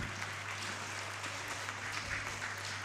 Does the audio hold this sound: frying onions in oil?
no